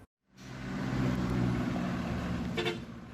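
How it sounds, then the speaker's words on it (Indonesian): Two heavy tronton trucks arrive at a KPU election logistics warehouse in Banjar, with a loud, steady low engine rumble that swells in after a brief silence and holds, plus a short higher tone near the end. "2 truk tronton tiba di gudang KPU Kota Banjar membawa logistik untuk pemilu."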